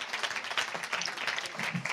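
Audience at a women's leadership forum applauding steadily, a dense, moderately quiet patter of clapping hands lasting about two seconds without pause.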